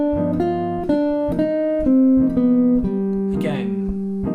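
Guitar playing harmonic minor arpeggios over a looper, with steady plucked notes in a clear repeating rhythm, close and moderately loud, and a brief scrape near the end.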